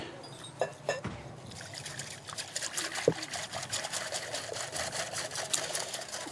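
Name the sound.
pouring milk into batter mix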